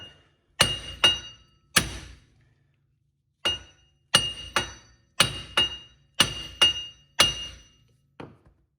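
A hammer repeatedly strikes the front hub of a 2010 Town and Country minivan to drive it out during bearing replacement: sharp metallic blows, often in quick pairs, about a dozen in all, with short silent gaps between them.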